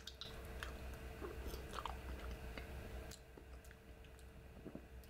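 Mashed potatoes with gravy are chewed close to the mic in a soft, wet, squishy rhythm, with faint smacking bites repeating through the quiet.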